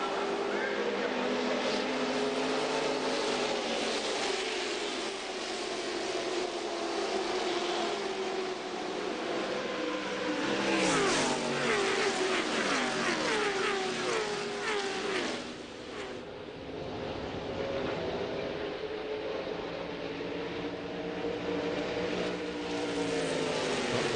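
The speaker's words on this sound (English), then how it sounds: "It is waved, and they're accelerating back up, hopefully to 190 miles per hour." NASCAR stock cars roar as they accelerate after the green flag at a 1999 Winn-Dixie 300 race, engines rising and swelling in pitch under continuous commentary.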